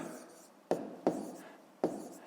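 Numbers are written by hand with a pen on paper, three or four short scratching strokes, close up, with no voices.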